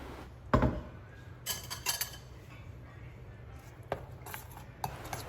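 A spoon scraping and clinking against a pan while ground coconut paste is mixed into okra kichadi, scattered metallic taps and clinks over a low steady background hum, no talking.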